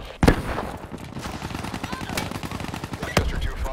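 Gunfire in Call of Duty Black Ops 3 team deathmatch, a few sharp shots with rapid bursts in between, fairly quiet, with game voices mixed in.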